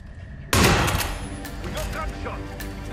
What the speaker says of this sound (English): We got gunshot!